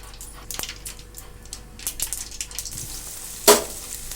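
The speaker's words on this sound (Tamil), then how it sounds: "அதில் எண்ணெய் ஊற்றி கடுகு போட்டு கொஞ்சம் வெந்தயம் வச்சு" Mustard seeds and fenugreek hitting hot oil in a kadai, a soft crackling sizzle with scattered sharp pops and one louder spattering burst near the end, fairly quiet and close.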